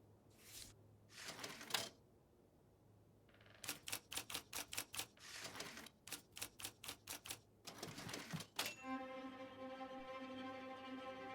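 Typewriter keys struck in quick bursts of separate clacks with short pauses between runs, then a ratcheting carriage or a smooth whir at the end, heard up close in the Murder in the Alps game with no talk.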